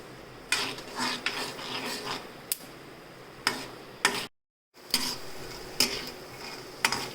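Peanuts frying in a pan over low gas while a utensil stirs them, with sharp metallic clinks and scrapes repeating at irregular intervals over a soft steady sizzle, close and fairly loud, with one brief drop to silence.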